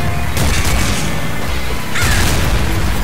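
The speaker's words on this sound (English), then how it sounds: "Ooh, big explosions." Heavy, booming video game explosions in Nuclear Throne roll in two dense bursts, loud and close, with crackling debris noise filling the gaps between them.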